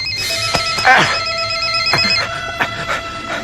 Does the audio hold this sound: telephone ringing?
yes